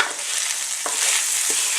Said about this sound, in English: So we're just going to give that a bit of a stir.